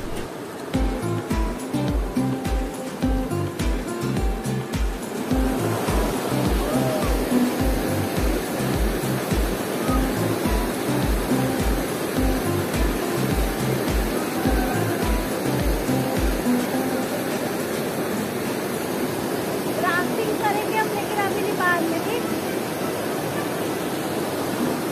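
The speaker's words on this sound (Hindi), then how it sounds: "नदी के किनारे बैठकर ठंडे ठंडे पानी में पैरों को डालकर लहरों का मज़ा लेना और पानी की आवाज़ सुनना" River water rushes and laps steadily at the bank of a river in Manali, a dense, continuous roar of flowing water with a rhythmic low thumping through the first part.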